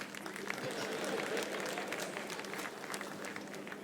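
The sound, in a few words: audience applause at comedy show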